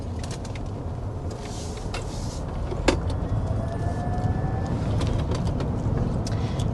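A 2025 Volvo EX90 electric SUV, steering and suspension set to firm, rounds a corner with a steady low road and wind rush, a faint electric whine, and one sharp click partway through.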